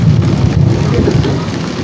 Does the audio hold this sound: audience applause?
no